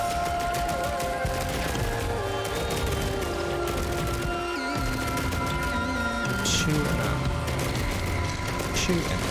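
Commando's rapid gunfire in Risk of Rain 2 crackles continuously as enemies are shot down, layered with game music, impacts and mechanical effects.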